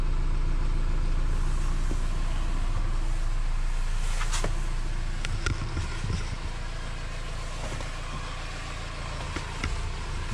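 Vehicle engine idling to charge the batteries on a roadside stop in Scotland along the North Coast 500, a steady low rumbling hum running throughout, close and constant with a few faint clicks.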